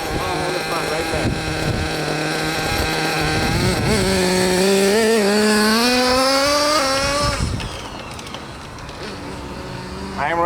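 A Hobao Hyper VT nitro .30 RC car with a three-needle carburetor, its engine running slightly rich, buzzes loudly and close, rising steadily in pitch as it revs, then dropping back to a rough idle with sputtering.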